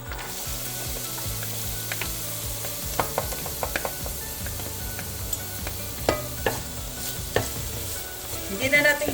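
Garlic frying in olive oil in a pan, pulled before it browns: a steady, soft sizzle broken by scattered clicks and scrapes of stirring, close and moderately loud, with no talking.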